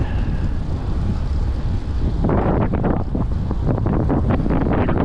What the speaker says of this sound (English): Pardon the wind today.